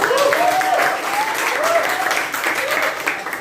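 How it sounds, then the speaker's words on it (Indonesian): Classroom applause for a student in a sociology teacher-training lesson, a steady patter of clapping with a voice briefly rising over it. "Oke, bagus, tepuk tangan."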